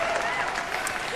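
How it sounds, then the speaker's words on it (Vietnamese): Loud, steady applause from a television studio audience at a Vietnamese impersonation show, dense clapping that fills the whole short stretch at an even level. "Một tràng vỗ tay thật to cho nở chị."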